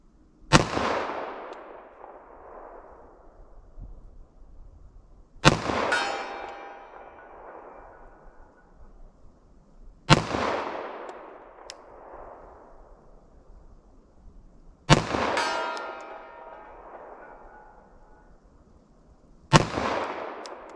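A long-barreled Sig Sauer Elite Defense .45 ACP handgun fires five evenly spaced single shots at steel targets 75 yards away, each a sharp loud crack followed by a long rolling outdoor echo that fades before the next shot.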